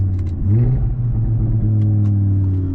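An Audi R8's engine right after a downshift: a close, loud, deep exhaust rumble with a brief rising rev, then a steady burble with a few faint sputtering pops.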